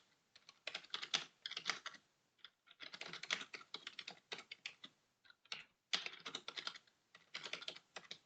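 Bursts of typing on a computer keyboard while writing code into a console, with quick clustered clacks broken by short pauses, close and clear with no talking.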